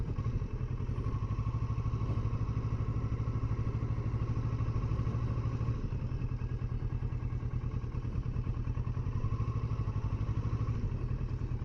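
A 2020 Kawasaki Versys motorcycle being ridden through a storm-damaged park, its engine droning steadily and loudly close by with a constant low rumble and faint rattling, no voices over it.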